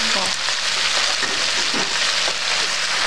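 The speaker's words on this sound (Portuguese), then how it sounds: "Aí nós vamos colocar a nossa carne moída." Ground beef hits a hot pan for a Brazilian buraco quente filling, giving a loud, steady frying sizzle with a few stirring scrapes throughout.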